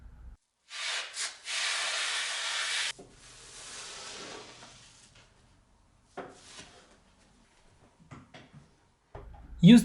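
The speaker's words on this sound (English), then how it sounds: "Cutting the foam with a kitchen knife does the trick." A kitchen knife slicing through 2-inch foam for a window bench, giving a close, breathy hiss that runs for about two seconds, then fainter scraping and intermittent rubbing strokes with quiet gaps between.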